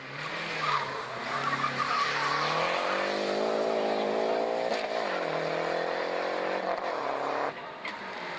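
A black Renault GT Turbo rally car charges up a hill climb course, its turbo engine revving hard through gear changes with tire squeal, loud and close before fading slightly, as a commentator talks over it.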